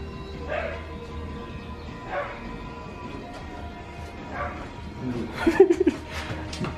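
A dog riding in a convertible barks and yips a few times in the distance, then a quick burst of higher yips near the end, with faint voices and laughter.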